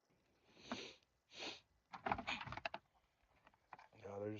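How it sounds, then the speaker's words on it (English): A person sniffles close to the microphone several times in short nasal bursts, with faint clicks and handling noises between them in an otherwise quiet room. "they're just gonna hear me sniffling the whole time"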